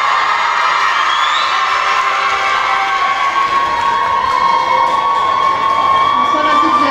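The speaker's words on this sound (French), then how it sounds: "Applaudissements pour Ayat." A crowd at a regional beauty pageant applauds and cheers steadily, with whoops rising over continuous clapping throughout.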